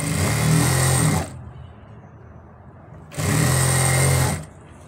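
A sewing machine stitching ladies' pants, two loud close bursts of fast motor whirring, each about a second and a half, separated by a quiet pause.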